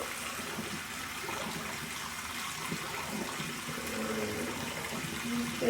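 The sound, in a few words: splashing water on face to rinse off clay mask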